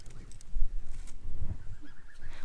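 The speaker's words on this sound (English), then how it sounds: "And over here are a couple of geese. These are our goslings." Five-week-old goslings honk in a garden pen, giving several short, close calls over low rustling and background noise.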